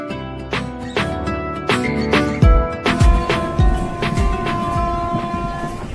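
Train crossing the Narghat rail bridge: a loud, near rumble with rhythmic heavy clunks of wheels over the span and ringing metallic tones, continuous throughout without speech.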